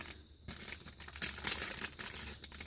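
Gift wrapping paper crinkles and crumples in close, loud bursts as a package is unwrapped, with brief pauses between handfuls of rustling.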